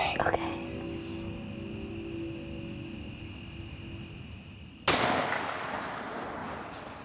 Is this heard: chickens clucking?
no